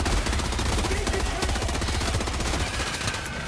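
Rapid automatic gunfire from a Helldivers 2 weapon that burns through ammo quickly, a dense, continuous rattle of shots filling the scene with no pauses for its full length.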